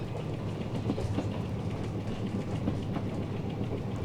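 A Gyeongjeon line passenger train runs toward Beolgyo in Boseong, South Korea, giving a steady, close rumble with soft rhythmic clatter from the rails and no voices.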